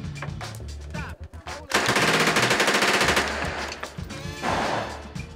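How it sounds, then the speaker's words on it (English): A Tommy gun fires in loud, rapid bursts at a shooting range in Cambodia, with a brief pause before a longer stream of shots that fades out. "Got my Tommy gun."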